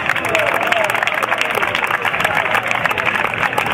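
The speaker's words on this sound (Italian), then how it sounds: "lo accogliamo lo stesso con un applauso" Crowd applause at a futsal club presentation as the team doctor is welcomed, a loud dense clatter of clapping that holds steady throughout, with a murmur of voices underneath.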